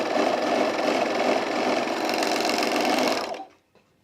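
A sewing machine runs steadily at speed for about three seconds, with a loud and close rapid mechanical chatter, and then stops abruptly, leaving near silence.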